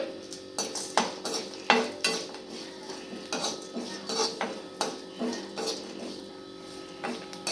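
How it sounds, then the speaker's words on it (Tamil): Cardamom and whole spices being sautéed in a pan for chana masala, with repeated sharp clinks of a spoon stirring against the metal over a soft, steady sizzle; no voices. "அந்த மசாலா சாமான் எல்லாத்தையுமே போட்டு வதக்கிக்கலாம்"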